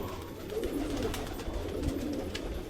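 Pigeons cooing nearby in soft, low, repeated coos over a steady background hum, with no voices.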